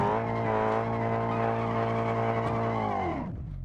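Car engine held at full throttle as the car tries to climb a long staircase, a loud steady harmonic roar that drops and fades near the end.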